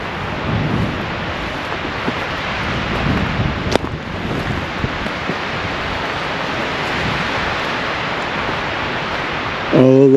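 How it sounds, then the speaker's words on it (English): Steady wind rushes and buffets against the microphone, a constant broadband roar with one sharp knock partway through and a brief tonal sound at the end. "it is windy."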